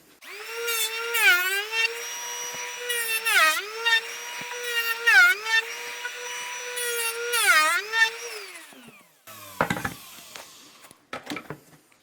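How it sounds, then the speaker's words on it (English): A power trimming tool cuts wood edgebanding on a campervan kitchen drawer, its loud high whine dipping and recovering in several passes as it bites into the edge, followed by brief clattering and handling noises. "Trim the edge."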